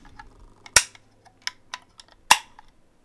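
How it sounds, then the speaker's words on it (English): AK rifle shots fired outdoors on a range: two sharp, loud cracks about one and a half seconds apart, with fainter clicks and small knocks between them and no talking. "You're going to drop the safety, pull the trigger, and push the safety back up."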